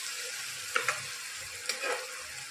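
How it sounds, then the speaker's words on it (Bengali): Spices fry in a pan with a soft, steady sizzle, and a few light stirring scrapes rise briefly above the hiss. "মশলা আমার ভাজা ভাজা হয়ে গেছে"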